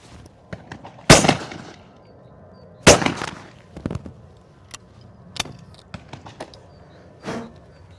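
Beretta 695 over-under hunting shotgun firing at a clay target outdoors, with two loud, sharp reports a couple of seconds apart, followed by scattered fainter pops and clicks of handling.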